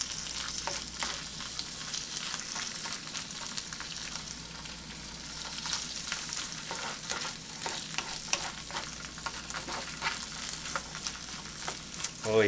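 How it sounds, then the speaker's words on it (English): Asparagus and mushrooms stir-fry in a pan, giving a soft, continuous sizzle broken by frequent scraping stirs and light clicks, fairly quiet and with no voices. "you're going to add your asparagus and your mushrooms and cook it for another 4 minutes"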